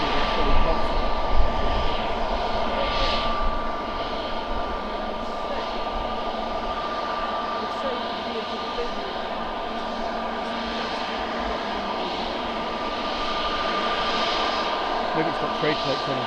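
A brand-new Jet2 Airbus A321neo comes in to land at Manchester, its engine roar a steady, broad wash that stays fairly loud and even throughout, with faint talk mixed in.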